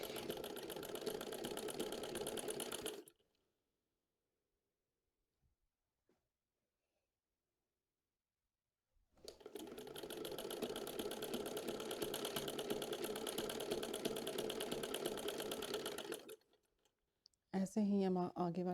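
A sewing machine stitches a ladies' trouser leg in two long, steady runs of rapid, even whirring and clicking, close by, separated by a long silence, with a short burst of talk at the end.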